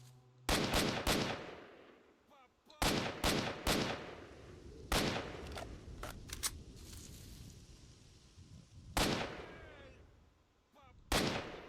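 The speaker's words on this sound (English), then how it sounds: "I'll keep shooting you in the knee, dude." Gunfire in the video game Stalker: Shadow of Chernobyl, loud sharp shots fired in quick bursts of two or three with pauses between, each crack followed by a short ringing tail, close and dominant.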